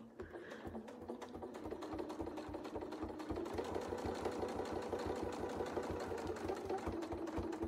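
A sewing machine runs steadily, stitching a quilt pattern of Christmas trees and angels, its rapid even needle pulses continuing close and unbroken throughout, growing slightly louder partway through.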